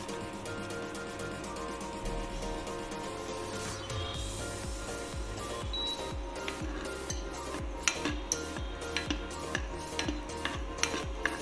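Chopped cashew nuts sauteed in a teaspoon of coconut oil, a low sizzle under a run of quick spatula clicks and scrapes against the pan that grow sharper and more regular toward the end, with no one speaking.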